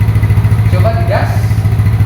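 A motorcycle engine revved during a mechanic's fault diagnosis, with a suspected knocking inside. It runs as a loud, steady low drone close by, with a brief higher rising tone partway through.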